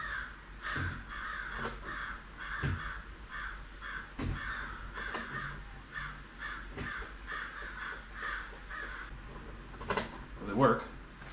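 Crows caw repeatedly outdoors in a yard, a series of harsh, rhythmic calls of moderate loudness spread across the span, with some clicking and handling sounds mixed in.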